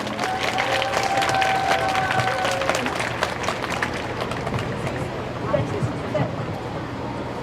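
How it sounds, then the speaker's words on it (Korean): A crowd at an outdoor Wednesday protest rally over Japanese military sexual slavery claps in steady, dense applause that stays strong for several seconds, then gradually thins and softens, with a faint tone and murmuring voices mixed in. "연대에 대한 지지의 박수 부탁드립니다"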